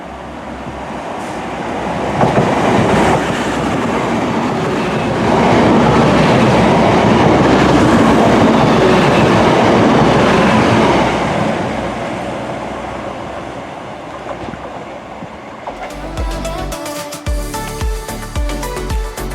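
A train rumbles and clatters past at close range at a railway station, wheels clacking steadily on the rails, then fades as a lighter rattling continues.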